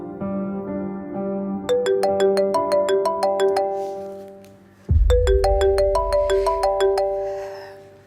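A phone ringtone plays from a call placed at home: a bright melodic tune of quick plucked notes, heard twice, the second run starting with a deep thump, loud and close with no talk.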